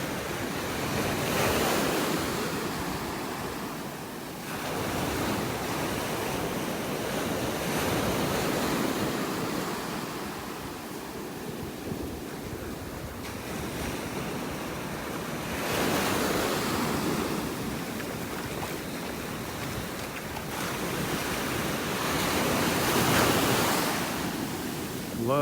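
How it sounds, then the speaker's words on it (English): Ocean waves break and wash up on a beach in North Naples, Florida, a continuous surf roar rising and falling in slow surges every several seconds, with wind buffeting the microphone. "the waves aren't nearly as big as they were in the past couple of days here"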